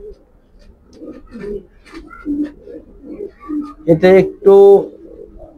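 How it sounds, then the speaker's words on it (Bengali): A female grizzle pigeon coos twice in short, loud close bursts near the end, after a stretch of quieter low murmuring and someone talking over it. "এ হলো কবুতরটার মাদি, গ্রিজেল মাদি।"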